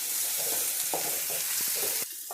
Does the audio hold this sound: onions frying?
yes